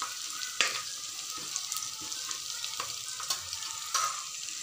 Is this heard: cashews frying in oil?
yes